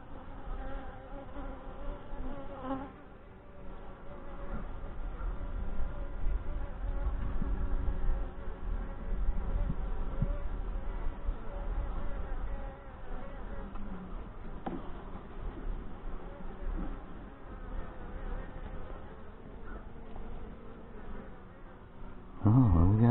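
Saskatraz honey bees buzz steadily around an opened hive during an inspection, a dense, close drone with a muffled, soft quality that rises and falls slightly, ending in a brief louder bump.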